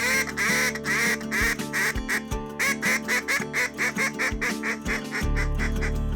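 A duck call imitates quacking in a rapid, rhythmic series of close, fairly loud quacks and chuckles, broken by brief pauses and ending in a sustained low hum.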